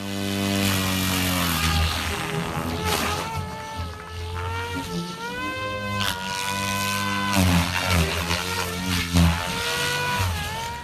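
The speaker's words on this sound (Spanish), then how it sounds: "Este helicóptero de control remoto decidió que no va a seguir las leyes de la física." A remote control helicopter's motor whines loud and near, its pitch rising and falling steadily as it flies, with a buzzing rotor tone throughout and no speech.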